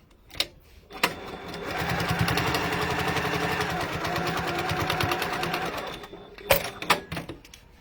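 A sewing machine running steadily as it top stitches fabric, a continuous mid-level whirring hum lasting about five seconds, framed by a few brief clicks and handling knocks before and after.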